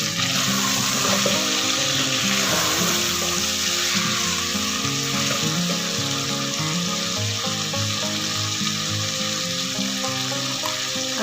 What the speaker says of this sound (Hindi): चिकन को अच्छे तरीके से थोड़ा फ्राई करेंगे जब तक इसका थोड़ा कलर जो है ना गोल्डन नहीं हो जाता।